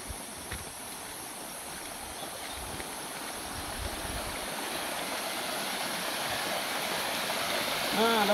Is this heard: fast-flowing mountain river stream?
yes